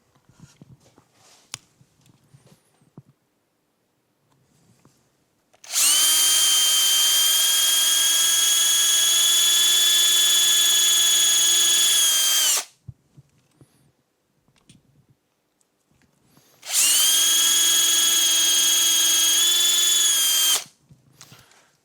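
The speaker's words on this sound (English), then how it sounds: "So I've got an 8mm drill bit to drill through this centre section." Two long bursts of a high, steady power drill whine as an 8mm bit drills through a clock part, loud and close, separated by a quiet pause with faint handling noises.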